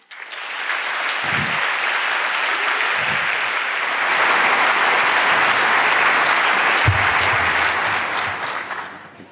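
A large hacker-conference audience at 33c3 breaks into loud, sustained applause to welcome a speaker, a continuous roar of clapping with a few low thumps.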